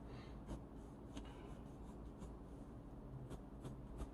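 A red colouring tool shading hair on a front-facing portrait drawing, giving steady soft scratchy strokes close up with a few sharper taps, and no talk.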